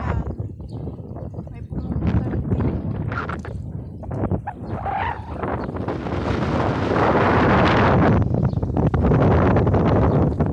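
Strong wind buffets the microphone with rumbling gusts that grow louder toward the end at Amwaj Beach, while a person talks intermittently over it.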